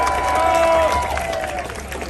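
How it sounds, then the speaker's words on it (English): A crowd at an anti-hate-crime rally in Queens, New York claps in a steady wash of applause with some cheering, fairly close and loud the whole time. "Let's give another round of applause to our Queens Borough President,"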